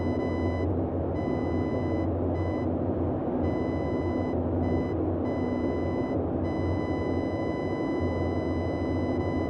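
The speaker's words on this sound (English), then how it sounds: "I'm hearing an A, so that means I need to move right a little bit to make the tone solid" A radio range Morse A tone heard from the Boeing 247D cockpit in Microsoft Flight Simulator 2020. It pulses as a short-long pattern, repeating steadily over a constant loud engine drone, with no talking.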